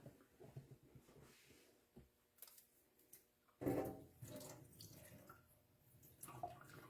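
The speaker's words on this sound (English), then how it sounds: "I'm going to drain this water off." Water being drained off cooked food in a kitchen, a quiet trickle and splash with one louder pouring gush partway through, then dripping and small clatters.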